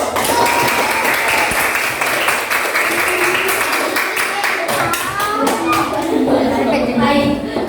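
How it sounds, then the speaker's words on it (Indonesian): A room of primary-school children claps their hands in a classroom, a dense, steady patter of many hands lasting the whole stretch, with young voices calling out over it. "Tepuk tangan dulu."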